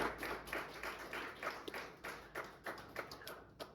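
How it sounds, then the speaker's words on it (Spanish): A church congregation claps for the Lord during an evening service, a quiet, fairly steady patter of many hands with a few sharper slaps standing out as the clapping thins toward the end. "¿Cuántos le damos un aplauso al Señor en esta noche?"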